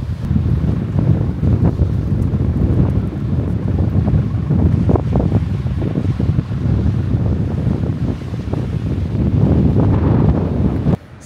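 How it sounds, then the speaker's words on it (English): Strong wind buffeting the microphone on a beach, a heavy continuous rumbling roar with gusty swells and faint surf beneath. "It's pretty windy."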